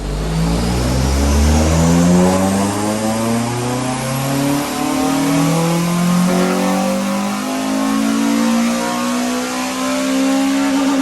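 Loud Honda Civic FN2 Type R engine revving on a dyno, fitted with a cone filter, decat and Toyo sports exhaust, the note climbing hard through repeated rising sweeps, close and continuous for the whole run.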